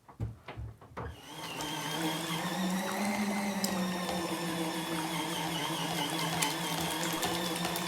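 A small 8-litre folding washing machine runs with a low, steady motor hum and a faint churning drone, preceded by a few brief knocks and clatters, close and moderately quiet with no talk.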